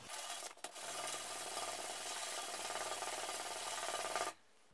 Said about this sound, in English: What I need to do now is I gotta sand off and make one side of this flat.